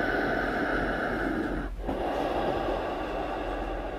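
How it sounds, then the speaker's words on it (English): Steady, resonant ujjayi breathing through the nose during Ashtanga yoga practice: a continuous close airy rush, with one brief dip in the middle. "Breathing in and out of the nose. And we try to make a nice resonant sound."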